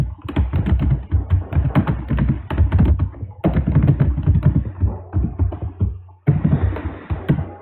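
Someone types code on a computer keyboard while following a Flutter and Firebase app tutorial, producing dense, close key clatter in quick runs broken by two brief pauses.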